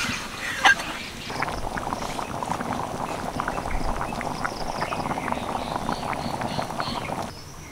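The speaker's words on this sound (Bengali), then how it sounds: "আরও কিছুক্ষণ আমি ফুটিয়ে নেব" Chickpea ghugni curry bubbles in a pot on a low flame, a steady close run of small popping bursts and gentle burbling that continues evenly throughout.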